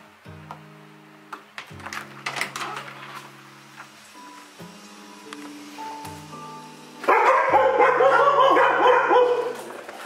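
Several dogs from a household of fourteen bark in bursts of sharp, repeated woofs and yips close by, with short pauses between bursts, then a louder clamor of overlapping barking near the end.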